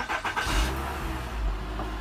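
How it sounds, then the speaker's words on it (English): A 2012 Nissan Rogue with its map sensor removed and a transmission control module communication fault starts up, a close engine crank catching into a loud steady rumble that holds for a couple of seconds with no talk. "Now we'll start the vehicle."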